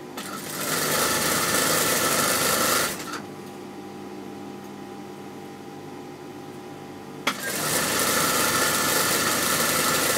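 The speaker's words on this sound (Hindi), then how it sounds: "हम एक ही सिलाई लगाएंगे लाइनिंग की" A sewing machine stitches trouser lining in a loud, close, continuous mechanical whir, pausing for several seconds to a low steady hum with a small click before running again at full speed.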